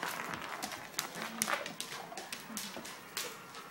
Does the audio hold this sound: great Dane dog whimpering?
yes